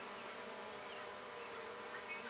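Honey bees hum steadily around an open hive during an inspection, a dense, continuous buzzing swarm close by, fairly faint, with no voices.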